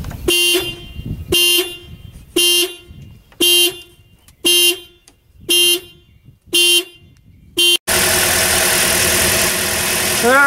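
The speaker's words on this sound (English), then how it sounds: "now the car alarm is going to go off the minute I touch this to it" A car alarm blares in repeated loud pulses, seven short bursts with gaps, then switches to a continuous warbling siren tone, set off while an alternator is being tested.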